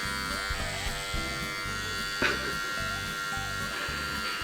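Electric clippers buzz steadily and up close while trimming a guinea pig, a continuous droning hum with slight pitch wobbles as the blades move through fur.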